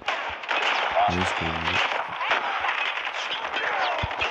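Pump-action shotgun fire in a first-person shooter game: a couple of sharp, close blasts near the start among dense game noise, with someone talking throughout.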